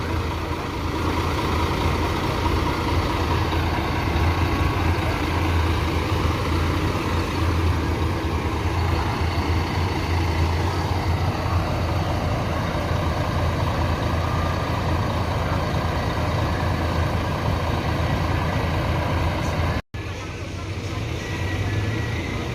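A Tronton bus with its heavy engine idling at a bus terminal, a steady low rumble that stays loud and constant, mixed with background commotion and faint voices.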